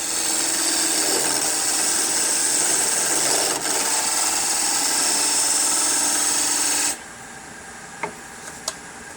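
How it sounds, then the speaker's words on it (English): Wood lathe spinning a birdhouse ornament while a tool cuts a tenon, a loud steady whirring hiss with a sharp click partway, then the cutting stops, leaving quieter room tone with a couple of small taps. "then I'm going to cut a tenon"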